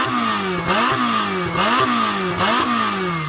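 Turbocharged Ferrari 488 Pista engine revving hard, rising and falling in three repeated surges with the pitch sweeping up then dropping back, loud and close with a raspy, buzzing tone.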